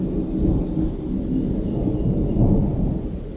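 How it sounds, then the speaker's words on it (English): Low thunder rolls and rumbles on a stormy day, a deep continuous grumble that swells twice, with no voices over it. "It's a stormy day, you can hear that"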